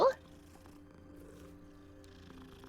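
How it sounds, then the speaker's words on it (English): A cat purring in the Hogwarts Legacy video game: a short bump at the start, then a low, steady, even rumble that carries on quietly throughout. "Pretty kitty."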